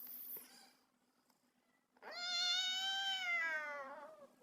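After a quiet pause, a cat lets out one long, loud, drawn-out meow close by, with a faint chirp before it.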